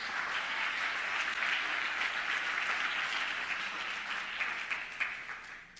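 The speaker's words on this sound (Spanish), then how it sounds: "Alguien diga amén y aplauda al Señor con fuerza" A church congregation applauds loudly in a steady, sustained wash of clapping that tapers slightly toward the end, with no speech over it.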